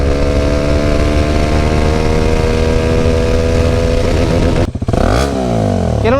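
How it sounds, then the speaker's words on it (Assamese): A Bajaj Pulsar NS200 motorcycle is ridden through a gear speed test, its engine loud and close, rising in pitch through a long pull, then dropping sharply with a brief cut before revving back up. "এতিয়া মোৰ নিজৰ NS200খন চলাম আৰু এই বাইকখন এতিয়া মই স্পীড টেষ্ট কৰিম"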